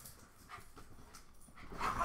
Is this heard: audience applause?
no